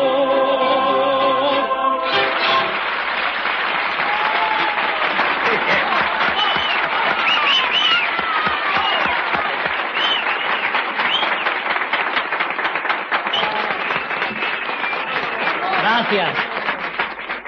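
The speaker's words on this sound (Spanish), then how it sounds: "Muchas gracias, queridos amigos, por estos aplausos tan merecidos" Enthusiastic studio audience applause follows a cuplé song on a 1982 Spanish television show, the last musical notes fading into sustained dense clapping that continues loudly for many seconds.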